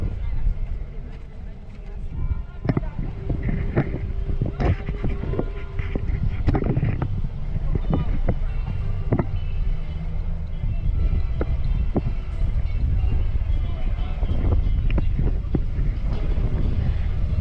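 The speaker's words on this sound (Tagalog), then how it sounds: "Ito, ay, mahangin." Steady outdoor wind noise roaring against the microphone on a London street, with people talking and scattered clatter and street sounds underneath.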